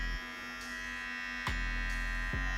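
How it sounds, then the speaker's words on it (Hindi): A Xiaomi Trimmer 2 electric beard trimmer runs with a steady, close motor buzz that shifts slightly in pitch a couple of times, with no voices. "इसमें जो मोटर है वो काफ़ी अच्छे तरीके से काम कर रहा है"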